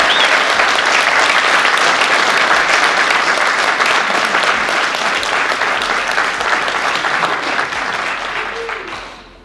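A crowd at the Texas BMX Hall of Fame ceremony in San Antonio applauds steadily and loudly for several seconds, the clapping thinning out slightly toward the end.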